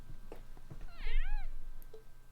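A cat meows in The Legend of Heroes: Trails of Cold Steel video game, one clear drawn-out meow with a rising then falling pitch, set against quiet game background sound after a few soft thumps.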